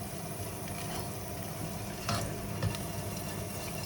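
Rice toasting in a hot pan for a yellow tomato risotto gives a soft, steady sizzle with light stirring scrapes, heard close and alone.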